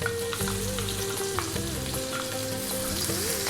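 Onion and curry leaves with star anise hit hot oil on high heat for Indian pepper chicken, giving a loud, continuous close sizzle with stirring throughout.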